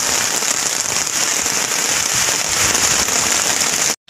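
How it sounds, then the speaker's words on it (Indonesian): Heavy tropical rain pours down without pause, a dense, loud hiss and patter near at hand during prawn fishing on a river before a storm, then cuts off abruptly at the end. "Hujan terlalu lebat."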